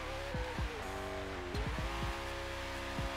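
A Tesla fitted with a Koenigsegg Regera engine, about 25,000 hp in Forza Horizon 3, screams loudly as its tires squeal, with several sharp dipping engine swoops as the revs rise and fall in quick succession.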